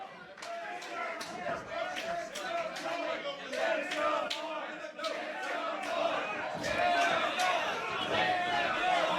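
Standing-room-only wrestling crowd at a Slamfest event voicing loud, sustained displeasure after a match ends unsettled, a dense wash of boos and shouting with sharp claps and bangs cutting through throughout.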